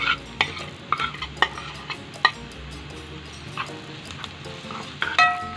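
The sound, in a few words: stirring onion and garlic frying in a pan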